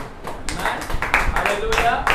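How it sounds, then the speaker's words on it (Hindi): A church congregation on Holy Saturday claps to welcome a speaker to the front, giving a burst of uneven clapping and short bangs mixed with voices and cheering in a hall. "एक जोरदार ताली के द्वारा हम आमंत्रित करेंगे"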